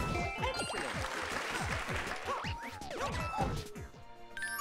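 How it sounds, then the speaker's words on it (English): An avalanche crashes in the video game Bowser's Fury. Game effects fill the scene: repeated falling, swooping tones and bright chiming, clattering hits sound steadily for several seconds without speech. "those things caused an avalanche"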